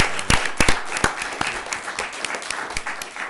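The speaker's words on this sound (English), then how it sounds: "round of applause, really." A short round of applause at a city council meeting, with sharp individual claps standing out over a dense patter of hands from a modest crowd, steady and fairly close for a few seconds.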